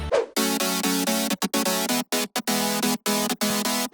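Chopped synth chord stabs from a future house track, bright and harmonically dense, played loud and close in a choppy rhythm with short gaps between the hits.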